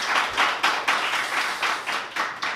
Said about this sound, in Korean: 영광 돌리면서 박수를 한 번 더